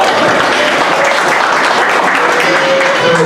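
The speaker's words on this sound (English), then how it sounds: "Let's give him a round of applause." An audience applauds a speaker at a talk, a loud, dense wash of clapping that holds steady for the whole few seconds, close and without pause.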